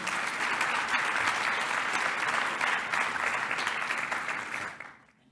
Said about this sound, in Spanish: Le damos un fuerte aplauso a ella también.